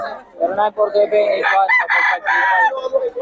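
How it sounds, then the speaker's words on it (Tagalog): Roosters crow loudly and close, several overlapping calls rising and falling with a few clucks mixed in. "Maganda ng mga manok ni Boss Gaga."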